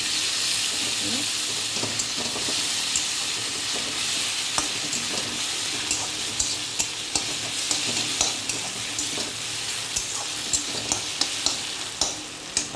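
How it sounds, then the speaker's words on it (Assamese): Ginger-garlic paste sizzles with frying onions in a pan for an Assamese small tingora fish mustard curry, a continuous close hiss broken by regular ladle clinks and scrapes as it is stirred. "এতিয়া পিঁয়াজখিনি ভজা হোৱাৰ পিছত মই এয়া আদা নহৰু পেষ্ট দি দিলোঁ।"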